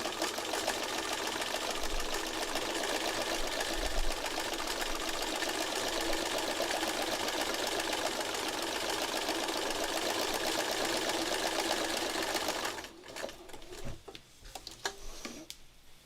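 A sewing machine runs a long, steady stitching pass with the presser foot set on top of a tool, a close and even mechanical whir that stops near the end, followed by light handling noises.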